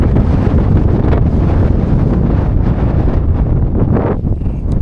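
Strong wind buffets the microphone on the exposed summit of Black Hill, the highest point in West Yorkshire, a loud, continuous roar with gusting rumble throughout and no voices.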